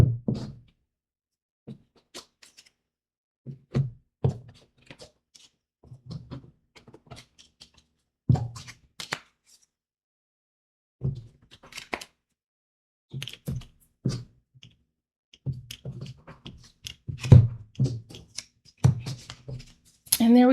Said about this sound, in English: I'm going to do a very simple shuffle.